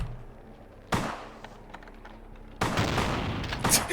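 Gunfire from weapons in the video game Vampire The Masquerade Bloodlines, set in a hotel: two loud, sharp bursts of shots, the second one a longer volley that rattles on to the end of the clip, with no speech.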